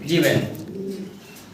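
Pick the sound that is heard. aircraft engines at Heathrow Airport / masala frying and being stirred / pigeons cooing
pigeons cooing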